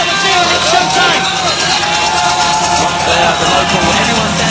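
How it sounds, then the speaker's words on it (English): A packed boxing-event crowd stands and roars with loud, continuous cheering, applause and whoops that fill the whole stretch without a break. "The whole crowd on their feet. Rapturous applause here"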